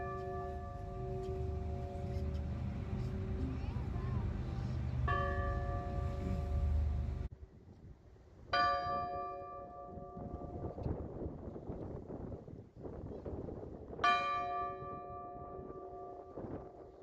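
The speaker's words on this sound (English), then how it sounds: "At noon, a bell struck 12 times to mark the hour." The bell of the Kansas City Federal Building striking noon outdoors, loud ringing strokes spaced several seconds apart, each hum decaying over wind and background noise.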